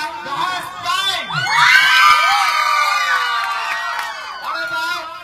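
A crowd of children shouts together at full volume in a loudness contest, a sustained, dense wall of young voices that swells and holds for several seconds before easing slightly.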